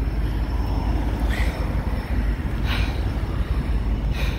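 A GO commuter train near a station gives a steady, moderately loud low rumble with faint squeals now and then, heard from some distance with no talking.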